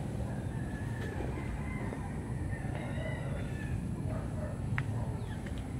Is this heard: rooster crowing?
yes